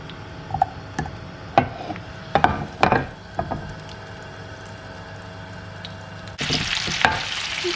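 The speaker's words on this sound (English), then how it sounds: "we're gonna throw it to the pan and cook, fry basically rest of our fish" Fish frying in butter in a pan, a soft steady sizzle with scattered pops and utensil clinks, swelling to a louder hiss near the end as more fish is added.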